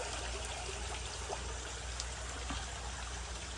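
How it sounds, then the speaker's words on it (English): Water streaming steadily through the overflow of an outdoor crayfish pond, a continuous close trickling wash with faint splashes and no voices. "So we're trying to get the water from here to here, and we'll try to test out our overflow"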